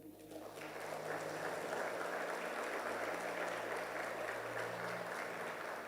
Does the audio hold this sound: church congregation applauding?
yes